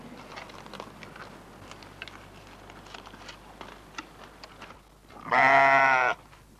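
A single sheep bleats loudly near the end, after several seconds of quiet ambient noise with soft ticking sounds.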